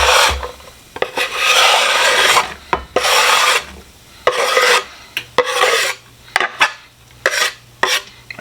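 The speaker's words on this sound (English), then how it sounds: "we're going to take our onion and garlic, scrape it right into the pan" A utensil scrapes onion and garlic off a board into a pan of melting butter. Repeated raspy scraping strokes come in bursts with short pauses between them, close and fairly loud.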